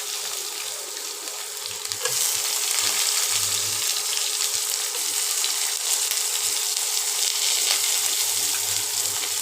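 Chopped onions hitting hot oil in a wok, a constant hissing sizzle that jumps louder after a quieter start and then stays steady and close.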